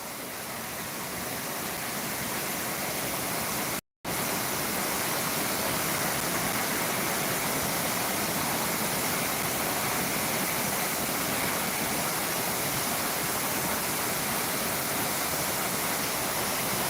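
A steady, powerful rush of falling water at Njandirukki waterfall roars continuously and close, with a brief cut to silence early on and no voices.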